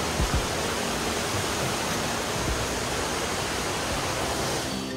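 Steady broadband rush of water from Bega Falls, falls number 3, a constant roar without breaks that stays loud and even from start to finish.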